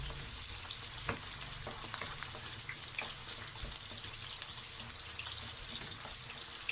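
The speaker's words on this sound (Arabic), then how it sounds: "والطاسه التانية انا حطيت فيها البدنجان يتحمر معايا" Eggplant fries in oil in a pan with a soft, even sizzle and scattered small pops and crackles, fairly quiet and close with no talking.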